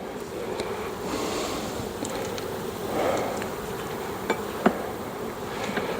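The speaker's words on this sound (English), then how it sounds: "You can see there's a bee with pollen right there" Honeybees hum steadily from an open kitchen hive with dark comb during a food-store check, a close, continuous buzz with a few sharp knocks near the end.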